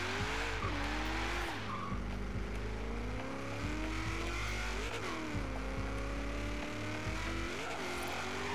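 A V8 Holden Commodore in Forza Horizon 3 roars loud and close, its engine note rising and dropping in repeated clutch kicks, with tires squealing and skidding through corners over a constant low rumble.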